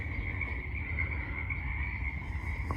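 Frog croaking outdoors as a steady continuous trill, moderately near, over a low rumbling background with no talk.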